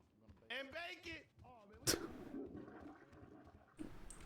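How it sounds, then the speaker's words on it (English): Toilet flushing in the GTA roleplay game world, a sudden loud whoosh followed by a rushing water swirl that fades, with someone talking just before. "Why is there loud flushing sounds over there?"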